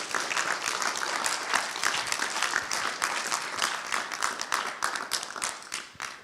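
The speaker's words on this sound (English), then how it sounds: "if I could just get a round of applause for all of those people" An audience at a decentralised science conference applauds the people who organised the event, giving steady, fairly even clapping from many hands that continues throughout at moderate loudness with little talk.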